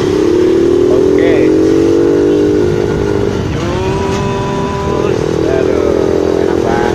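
Honda Monkey motorcycle, a 2019 model, riding through slow traffic with a steady engine drone, shifting pitch as it speeds up and slows down, and a voice talking over it.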